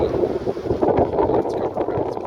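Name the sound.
wind blowing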